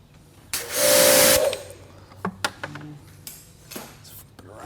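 Armor wheel coating is sprayed onto car wheels in one loud, steady hiss lasting about a second, followed by quieter clinks and taps of handling.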